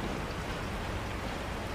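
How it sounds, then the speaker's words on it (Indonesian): Rainfall at night in Resident Evil 4, a dense, even, continuous hiss of rain with no other sounds, loud and unbroken for the whole short stretch. "Malam hujan lagi"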